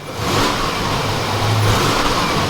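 Buick engine running after a fuel injection rebuild, a close, loud steady car engine hum with slight revving and a low throb, no voices.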